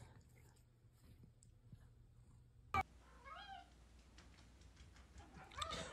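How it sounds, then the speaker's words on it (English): A cat meows a few times in a quiet indoor room, with rising wavering calls in the middle and a sharp knock just before, fairly faint against low background hum. "I thought you were just meowing."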